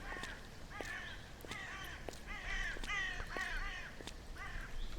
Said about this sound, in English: The crows are going crazy,